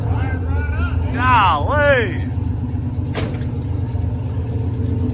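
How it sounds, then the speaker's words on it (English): A car engine with an exhaust leak from a missing header bolt idles nearby, a steady low rumble running throughout while someone speaks briefly over it, followed by a sharp click. "Now, does it have an exhaust leak? Absolutely."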